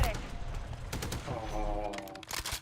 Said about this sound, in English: Hostiles deployed a remote turret.